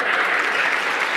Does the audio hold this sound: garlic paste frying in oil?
no